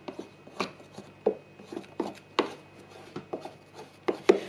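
A stick or chopsticks stir and scrape fresh pho noodle dough in a bowl, giving soft, irregular thumps and rubbing strokes close by with quiet pauses between them.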